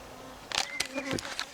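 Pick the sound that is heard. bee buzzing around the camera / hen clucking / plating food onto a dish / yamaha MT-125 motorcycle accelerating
bee buzzing around the camera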